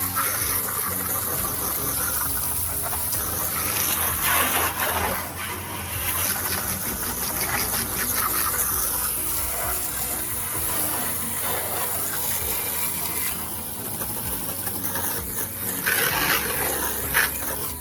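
Steady broadband spray of water rinsing foamy degreaser from a car engine bay, continuous and fairly loud with slight surges in intensity throughout, no talking.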